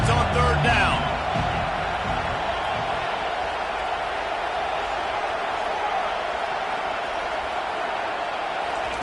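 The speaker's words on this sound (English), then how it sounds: "Decibels rising as the crowd gets behind this defense on 3rd down." A stadium crowd at a football game roars steadily on a defensive third down, a dense, sustained wall of cheering that stays loud throughout, with a brief clatter near the start.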